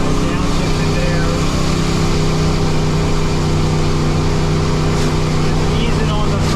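A truck with a rear-mount turbo, towing a load with the throttle eased on, makes a loud, steady engine drone with wind and road rumble throughout.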